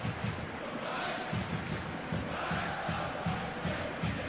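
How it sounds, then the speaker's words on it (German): A stadium crowd in the FIFA 14 football game cheers and roars in a dense, continuous wash, with rhythmic chanting pulses throughout. "Und das Publikum ist oben auf."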